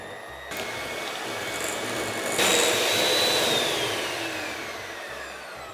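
An electric hand mixer beats 100 grams of soft butter for frosting with a steady, loud motor whir. The whir rises in pitch and intensity after a couple of seconds, then gradually eases. No voices are heard.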